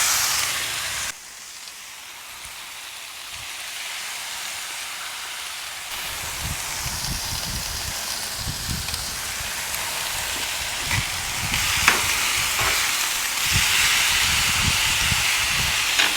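Marinated beef skirt steak for fajitas hits a hot flat grill and bursts into a loud, steady steaming sizzle that swells after the meat goes down, with occasional crackles, close up.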